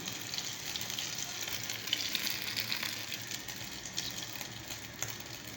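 Flour-coated kenger plant stalks fry in hot oil with a steady, soft hiss and crackle, continuous and fairly quiet from start to finish, with no talking.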